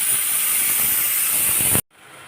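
A pressure cooker on the stove cooking mung dal, sending out a loud, steady hiss of escaping steam that runs unbroken for nearly two seconds before cutting off abruptly into near silence.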